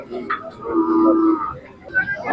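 Khillar working bulls low at a busy cattle market in Sangola, one drawn-out moo near and loud, with crowd noise and a voice behind it.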